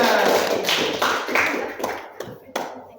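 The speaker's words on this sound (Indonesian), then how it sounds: "Tepuk tangan buat kita semuanya." Hands clapping together in a classroom, a burst of claps that thins out into a few scattered separate claps, close and fairly loud, with some voices underneath.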